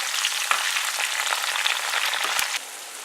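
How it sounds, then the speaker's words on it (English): Onions cooking with garlic in a pan give a close, continuous sizzle with crackling pops throughout and an occasional stirring scrape. "Now I'm just going to add the onions in here and let them become translucent and cook with the garlic"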